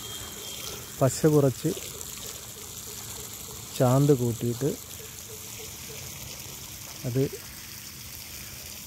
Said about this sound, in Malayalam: ഇതുപോലെ ഓരോ കളത്തിലും വെള്ളം ഫില്ല് ചെയ്ത് കൊടുക്കണം